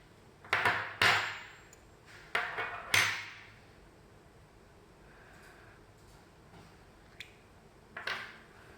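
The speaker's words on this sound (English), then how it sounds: "Using the two wrenches from the accessory kit, unscrew and disassemble the nozzle." Two wrenches unscrew and take apart a pressure washer nozzle, giving a few sharp metallic clicks and clanks in separate bursts, close and fairly faint, with quiet pauses between them.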